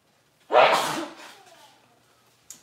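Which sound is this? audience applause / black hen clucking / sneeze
sneeze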